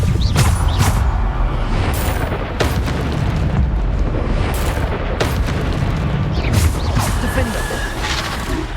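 Repeated booming blasts from the Bombarda spell in Hogwarts Legacy, dense rumbling explosions and crashes layered with other combat effects, with a voice shouting over the din throughout.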